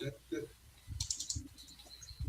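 Someone clicks a computer mouse and keyboard during an online tabletop role-playing session: a few quick, faint clicks over a low, soft background.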